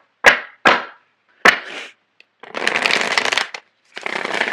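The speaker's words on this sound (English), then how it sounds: "So I'm going to shuffle the cards." A deck of tarot cards is shuffled by hand: three quick riffles with sharp attacks, then a long ruffling shuffle and a final shorter one, close and crisp with silent gaps between.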